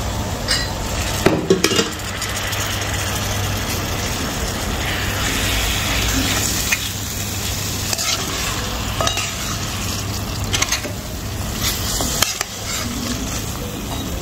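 Water is poured into spiced masala in a cooking pot for a vegetable korma, giving a steady sizzle with stirring and occasional clinks of utensils against the pan, close and continuous with no talking.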